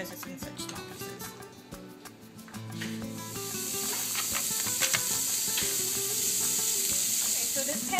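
Diced pancetta frying in a pan until crisp, a steady close sizzle that swells louder partway through, with occasional stirring and light clinks over a faint musical background.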